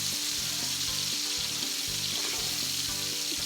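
Red potatoes sautéing in bacon fat, pushed around the pan, a loud steady sizzle with a low rhythmic scraping as they are moved, heard close with no voices.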